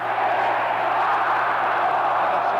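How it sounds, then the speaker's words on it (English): A packed football stadium crowd at Michigan vs Ohio State roaring continuously, a dense, loud, sustained wash of cheering with no individual voices standing out. "Listen to the crowd go wild"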